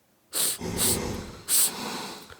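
A voice imitates a huge giant's loud, wet sniffling and snuffling: three sharp hissing snorts with heavy breathy snuffles between them, close and alone.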